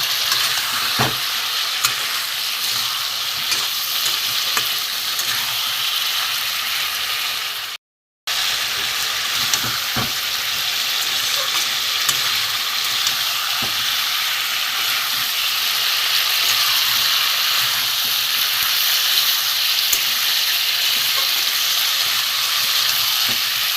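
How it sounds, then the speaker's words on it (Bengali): Vegetables and spices sautéing in a pan for a vegetarian dish: a steady, loud, broadband sizzle that runs almost without a break, with occasional scrapes of stirring and one brief drop-out near the middle. "দিয়ে মশলার সাথে এগুলো আমি আরও ভালো করে কষিয়ে নেবো।"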